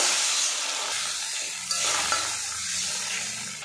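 Soybean curry with chopped tomatoes is stirred in a frying pan, giving a steady close sizzle with soft scraping and shifting movement throughout, with no voices.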